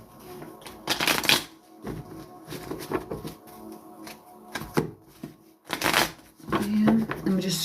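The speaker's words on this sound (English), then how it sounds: "let me just shuffle through and see what drops out for you, Julia." A deck of reading cards is shuffled in quick, crisp riffling bursts with short pauses between them, close by, with a low voice now and then.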